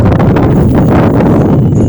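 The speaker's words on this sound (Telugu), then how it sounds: "గాలి వస్తుంది ఇక్కడ." Strong wind at RK Beach in Visakhapatnam buffets the microphone in a continuous loud rumble, with no voices heard.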